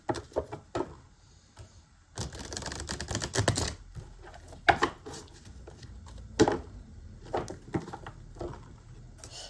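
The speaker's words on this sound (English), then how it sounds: "Let me just see, I need to shuffle." Tarot cards being shuffled by hand, with a few quick papery riffles and a denser burst of flicking and tapping in the middle, close and fairly quiet, and no talking.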